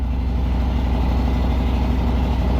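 A Harley Davidson FXBR Breakout motorcycle engine idles with a low, steady, loping rumble, loud and close and unbroken throughout.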